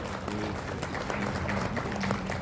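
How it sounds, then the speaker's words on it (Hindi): Applause from an audience at a direct selling industry event, a crowd clapping in a dense, continuous patter with some louder individual claps standing out, moderately distant and steady. "एक बार जोरदार तालियां Real Art Pictures के लिए।"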